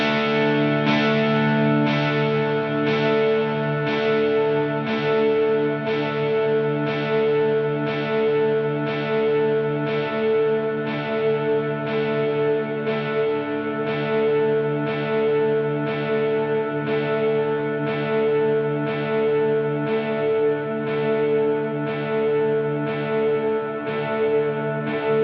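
An electric guitar through an Axe FX III with reverb and delay and modulation on the reverb: a sustained chord rings out under evenly repeating delay echoes that pulse steadily and smear into a wide, shimmering wash.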